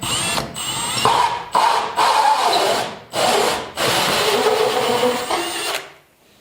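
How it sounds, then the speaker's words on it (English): A power drill bores holes for downlights into the ceiling of an old stone cottage, in several loud close bursts of grinding whine broken by brief pauses before it winds down. "Now I'm going to drill holes."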